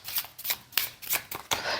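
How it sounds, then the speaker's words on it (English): Half a deck of playing cards being shuffled up close, several quick riffling bursts in an uneven rhythm, fairly quiet with no talking. "There, you shuffle that up and I will shuffle this up."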